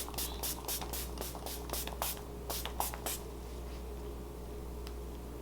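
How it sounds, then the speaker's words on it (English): Quick bursts of Lancome Fix It Forget It setting spray hiss repeatedly in an irregular rhythm, close by, then stop, leaving a quiet room with faint background hum. "I'm gonna use Lancome Fix It Forget It, and I'm gonna just spray this all over."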